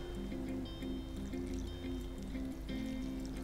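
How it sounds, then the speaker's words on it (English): Hot water poured into a paella pan on the heat, a continuous trickling stream with a faint ringing resonance running steadily for several seconds with no talk. "And then we're just going to add some water to it."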